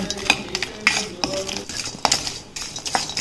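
Mace pieces dry-roast in a pan while a metal spoon scrapes and clinks against it in quick, irregular strokes, close and fairly loud, with light rattling between the taps.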